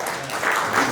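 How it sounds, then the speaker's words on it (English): Indoor audience applause at a school alumni gathering, a brief dense patter of clapping hands at moderate loudness with no distinct voices. "All the golfers, please give a round of applause to everyone."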